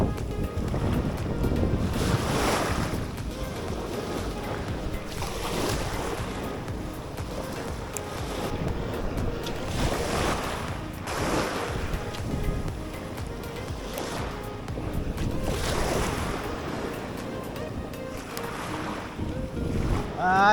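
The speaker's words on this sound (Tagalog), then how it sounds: "Medyo mahangin lang sa lubong sa atin kaya ang hirap mag-cast." Wind buffets a boat at sea during a fishing trip, gusting in repeated surges against the microphone over the low wash of waves, with no clear talk.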